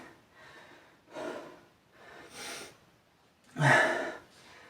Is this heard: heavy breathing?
yes